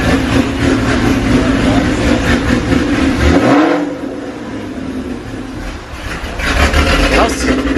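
A Ford GT500 engine with a Ford Racing Sport axle-back exhaust holds a raised, loud rev near 2000 RPM, drops back toward idle midway, then climbs again near the end, the exhaust rumbling close by.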